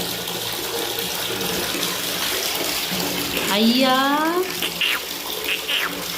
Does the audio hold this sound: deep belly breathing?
no